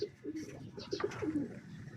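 Several pigeons coo nearby in soft, repeated throaty calls over a low background hum.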